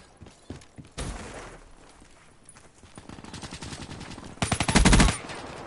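Submachine gun fire in the Black Ops 3 multiplayer beta, bursts of rapid automatic shots that grow louder and denser toward the end, with a heavy close burst near the finish.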